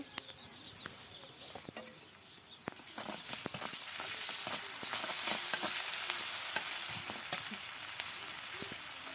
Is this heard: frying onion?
yes